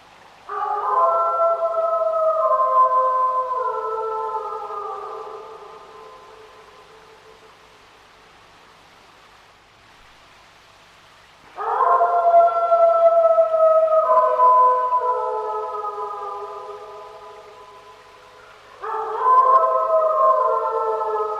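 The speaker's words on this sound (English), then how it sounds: "There's something really special about a wolf howl" Archival recording of a wolf howling: long, wavering, sliding tones that rise and fall, repeated in three drawn-out howls with quieter pauses between them, clear and resonant with no voices.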